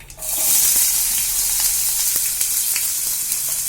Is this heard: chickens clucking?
no